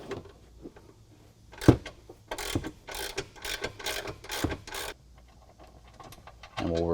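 A hand ratchet clicks in quick runs as it loosens an inside frame bolt on the factory front bumper of a 2022 Jeep Wrangler JL. The bursts are crisp and close, with brief pauses between strokes.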